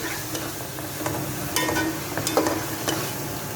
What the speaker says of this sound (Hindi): अच्छे से कर देंगे हम कीमे के अंदर मिक्स।